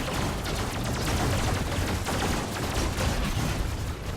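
Proto-seeker weapons firing in RoboCraft, a dense, loud, continuous barrage of rapid game gunfire and blasts with no break.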